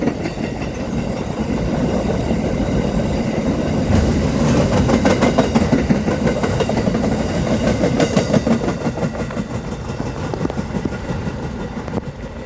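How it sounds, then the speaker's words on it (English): A freight train with hopper wagons and steel-coil loads rolls past near Frankston: a dense, continuous rumble with rapid, regular clickety-clack wheel beats, loud and close throughout. "And there he goes, clickety-clacking along round Park Lane."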